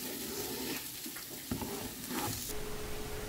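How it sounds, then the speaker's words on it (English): Rice stirred constantly while frying in a pan, a soft steady sizzle with a few scraping stirs, quiet and close with no talk. "stir constantly. You will notice your rice start to turn pure white."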